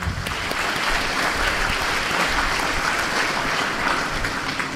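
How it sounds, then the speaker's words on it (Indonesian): Steady, dense applause fills a university graduation hall as the audience claps for the graduates, sustained throughout with no break. "Tepuk tangan untuk para wisudawan."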